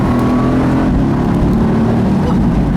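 A 2018 Mercedes-AMG GT C Roadster's engine roars steadily while driving, a loud, continuous low drone close up with no talk over it.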